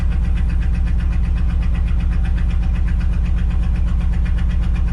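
Engine of a 1975 Ford F750 pipeline truck idling, a loud, close, steady low rumble with an even pulsing beat throughout, with no voices.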